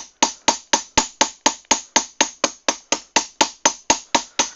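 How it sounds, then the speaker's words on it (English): A hammer planishes metal armor with about eighteen evenly spaced, ringing metallic strikes at a steady rhythm, loud and close, each blow decaying briefly before the next. "So, planishing is by far the most tedious part of armoring."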